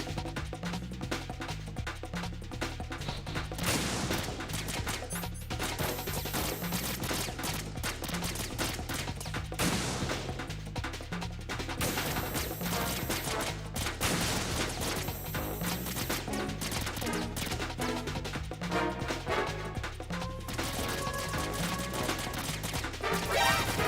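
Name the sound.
sniper rifle shots in video game Metal Gear Solid 2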